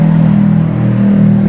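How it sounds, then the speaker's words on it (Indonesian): A motorbike passes close by with a loud, steady engine drone that holds through the moment and barely fades. "Ada motor lewat guys."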